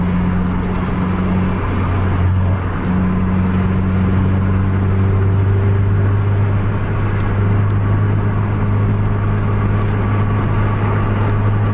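A Scania truck engine drones loudly and steadily up close, a heavy, continuous mechanical hum with a strong low tone and no pauses.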